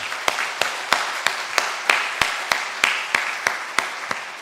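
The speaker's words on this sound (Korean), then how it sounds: "우리 따뜻한 박수로 환영하겠습니다" Warm applause from a church congregation at a Sunday Methodist service, welcoming a newly registered member; steady rhythmic clapping runs throughout with regular sharp accents, fairly close and without talk.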